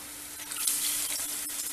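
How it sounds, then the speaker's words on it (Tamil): Water is poured into a pan of butter chicken masala with ground paste, giving a brief splashing hiss with faint sizzling close by. "தேவையான அளவுக்கு தண்ணி ஊற்றிக்குவோம்."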